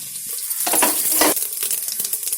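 Fennel, cinnamon and cloves hit hot sesame oil in a pan while cooking mushroom biryani, giving a sudden crackling sizzle that swells into bright bursts and then settles into a steady spitting hiss.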